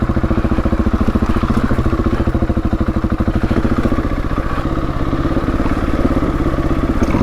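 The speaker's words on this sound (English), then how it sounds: "the engine braking's a lot more powerful in first gear with the 14 toother" A Husqvarna 701 Enduro single-cylinder motorcycle engine brakes in first gear with a 14-tooth front sprocket, a loud, close, rapid thumping exhaust pulse that stays steady throughout with no talk.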